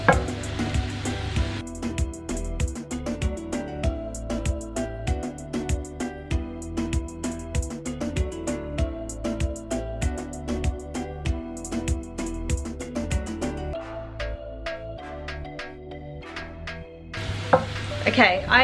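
Onions frying in a pan for a curry are stirred now and then, a steady sizzle with occasional scraping beneath prominent background music.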